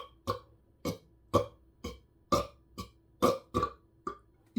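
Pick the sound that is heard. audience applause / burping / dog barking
burping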